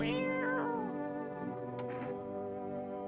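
A pet cat meows up close, giving a couple of drawn-out, wavering cries followed by a short, sharp chirp, against a quiet background.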